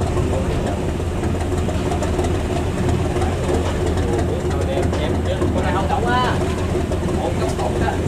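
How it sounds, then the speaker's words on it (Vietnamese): A Binh Dinh squid-fishing boat's engine runs steadily, a low heavy continuous drone with scattered clatter, while people talk over it. "Ghe câu nha các bạn."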